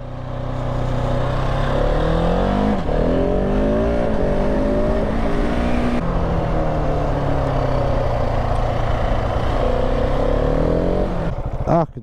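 Motorcycles, including a Ducati DesertX, Husqvarna 701 and Multistrada V4S, on a twisty switchback road, their engines droning steadily and loudly with rising and falling pitch as they approach.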